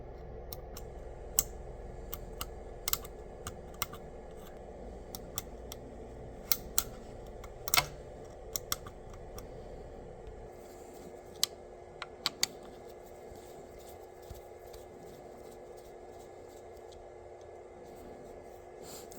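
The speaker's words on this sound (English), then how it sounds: "We'll take those 3 screws out to start with." Screws being backed out of a roughly 50-year-old McGraw Edison Power House saw, giving a run of small, close, sharp ticks and clicks at an irregular pace over a quiet background.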